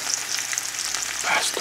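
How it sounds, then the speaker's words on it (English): Ravioli stirred in a Le Creusét frying pan: a steady close sizzle with soft scraping from the spoon, heard alone. "So we're just going to stir this around a little bit."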